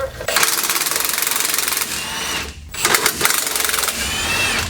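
Strut bolts are removed from a 2018 Chevrolet Silverado with a rapid, buzzing impact-tool rattle. The tool sounds in two loud bursts close by, separated by a brief gap, with a mechanical hum running underneath.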